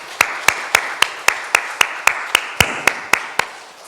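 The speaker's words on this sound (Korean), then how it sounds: "이들을 위해서 감사의 박수 한번 하겠습니다" A church congregation at a Sunday worship service claps in unison, about a dozen sharp, evenly spaced claps in a steady rhythm, fairly close and clear, with no talking over them.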